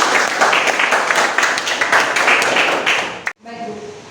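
Students in an Indonesian language class applaud together, a dense, steady clapping that fills the room for about three seconds before cutting off abruptly, followed by a brief quiet voice.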